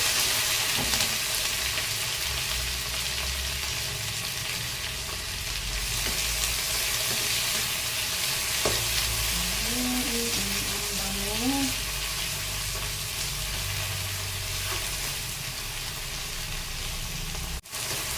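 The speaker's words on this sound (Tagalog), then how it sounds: "pwede na nating sabay-sabayin yung garlic, onion, at tomato. Kasi ibigisa natin ng ganito." Garlic, onion and tomato sautéing together in a pan for an omelette, giving a loud, continuous sizzle close by with occasional stirring noises throughout.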